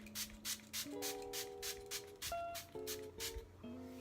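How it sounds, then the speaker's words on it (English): A face mist spray bottle hisses in a rapid series of short bursts, one after another, over a faint steady hum. "So I just shake it a couple times and then I just spray it all over my face."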